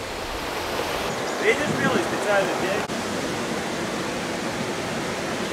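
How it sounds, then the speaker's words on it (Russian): The Algar waterfalls near Benidorm, Spain, rushing water forming a steady, dense roar throughout, with a person speaking briefly over it partway through. "Это называется водопады Агара."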